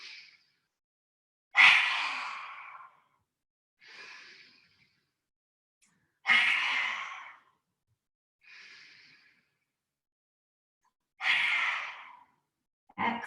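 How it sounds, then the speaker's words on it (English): Three forceful lion's breath yoga exhalations, each loud and breathy, alternate with softer inhales, with silence between breaths. "if you're doing lion's breath, and really stretch the chest forward and really stick your tongue out as far as it can go"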